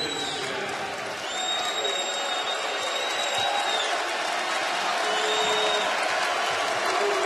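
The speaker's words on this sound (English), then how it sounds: "the crowd starting to get involved as we close the midway point here of this second 20 minutes" A basketball arena crowd at a Louisiana Tech at Southern Miss game, a steady wash of cheering and clapping that stays at an even level throughout, with a whistle-like tone weaving through it and faint talk underneath.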